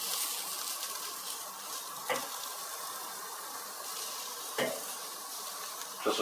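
Zucchini sizzles steadily on a hot grill beside picanha and shrimp, a close, continuous frying hiss with a few sharp clinks of a utensil against the grate.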